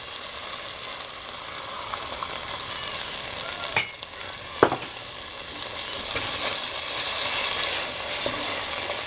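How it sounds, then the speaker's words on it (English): Cream poured into hot, sizzling masala for malai kofta gives a steady, loud frying hiss throughout, with a couple of brief sharp clacks of a utensil partway through, close up and without speech. "Now the masala is nicely cooked and fried. It's time to add"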